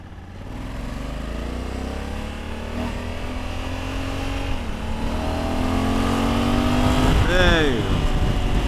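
Honda Africa Twin CRF1100 adventure-sport motorcycle accelerating hard through the gears, engine pitch climbing steadily and loudly over several seconds with shifts, close to the rider, with a voice speaking over it.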